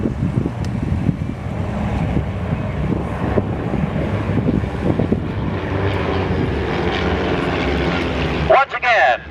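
Falcon Flight aircraft in delta formation at an airshow give a steady, broad engine drone mixed with wind buffeting on the microphone, continuous and moderately loud throughout.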